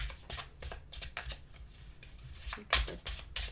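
Tarot cards being shuffled by hand, a quick run of crisp riffling bursts and soft slaps that repeat unevenly, close and fairly quiet, with no voice over them.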